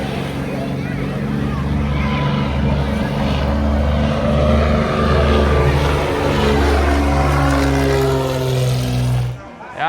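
Propeller airplanes fly low over a beach, a loud, continuous droning engine roar with slowly shifting pitch that builds and fades, then drops off sharply at the end.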